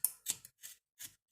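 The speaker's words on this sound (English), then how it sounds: "cut them up with the scissors" Scissors snip through small perch and roach during gutting, four crisp separate cuts spaced a few tenths of a second apart, close and fairly quiet with no talking.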